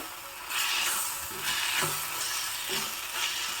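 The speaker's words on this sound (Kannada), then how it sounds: "ಬದನೆಕಾಯಿ ಟೊಮೊಟೊ ಈರುಳ್ಳಿ ಎಲ್ಲ ಚೆನ್ನಾಗಿ ಫ್ರೈ ಆಗಿದೆ" Eggplant, tomato and onion fry in a pan for a Mysore Brahmin-style brinjal dish, a steady moderate sizzle with soft stirring scrapes, close and with no talk.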